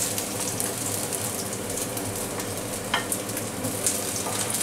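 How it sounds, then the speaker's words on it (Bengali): Cauliflower florets frying in hot oil for a Bengali-style masala roast, giving a steady close sizzle with faint stirring clinks throughout, no voices. "ফুলকপিটা আমি বেশ সুন্দর করে ভাজবো, রং ধরা পর্যন্ত আমি ভাজবো এটা।"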